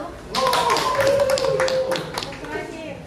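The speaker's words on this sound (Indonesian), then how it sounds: "Beri aplaus kepada kelompok 1." A classroom group claps briefly for the first group, a short burst of close hand claps that rises and fades within a few seconds. A voice can be heard over the clapping.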